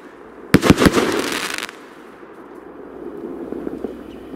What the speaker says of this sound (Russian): Из себя он представляет батарею салютов с зарядом на 13,